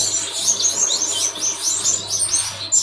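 Pet finches in an aviary setup in Garia, Kolkata, keep up a dense, continuous stream of high, rapid chirps and tweets close by, with no talking.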